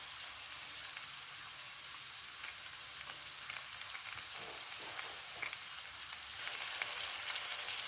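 Fennel frying in a pan gives a steady, soft, quiet sizzle with faint crackles and light scraping now and then, and no voices.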